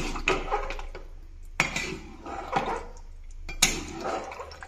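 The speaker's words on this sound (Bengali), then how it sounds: "এবারে ভালো করে মিশিয়ে নেব খুন্তির সাহায্যে" A spatula scrapes and clatters against a pot while goat meat curry spices are mixed, giving a few sharp metallic strokes with quieter scraping between them, close and fairly soft.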